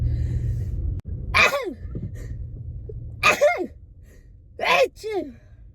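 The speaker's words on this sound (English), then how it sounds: "I'm gonna sneeze." Three sharp, explosive bursts spaced a couple of seconds apart, each a quick inhale and forceful sneeze, loud and close over a low background hum.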